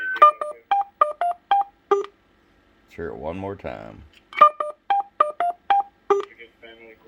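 Custom Roger beep from a Stryker SR-655HPC CB radio: a quick run of rapid electronic tones sounds, someone speaks briefly, then the same beep melody plays again, close and clear.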